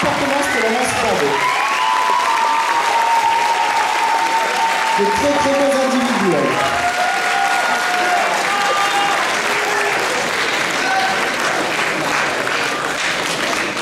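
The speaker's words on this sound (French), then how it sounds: "On peut les applaudir fortement, c'était vraiment super." A cosplay convention audience at Mang'Azur 2012 applauds the contestants with loud, sustained clapping that fills the room while a host speaks over it.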